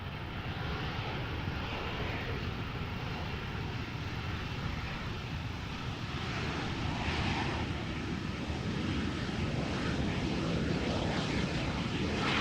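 SAS CRJ 900 ER airliner, about 12 years old, touching down at Amsterdam Schiphol: a faint, continuous jet rumble and hiss, distant and even throughout, with no talking.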